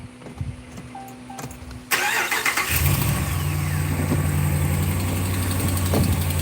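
A car engine cranks and catches about two seconds in, then settles into a steady mid-pitched idle during an oil change, close and loud; before it starts there are only faint clunks and quiet background.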